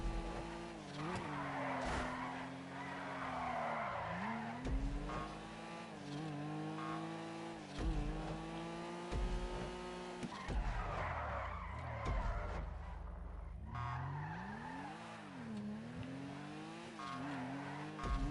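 Tires squeal and skid in repeated long slides as a car drifts under e-brake in GTA 5, its engine droning and revving beneath them, loud and continuous.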